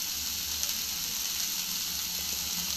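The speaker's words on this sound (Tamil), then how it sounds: "இப்போ ஆனியனையும் பச்சை மிளகாயும் போட்டு நல்லா ஃப்ரை பண்ணுறோம்." Onions and green chillies sizzle in a hot pan for a coconut rice dish, with a steady, close frying hiss throughout and no talking.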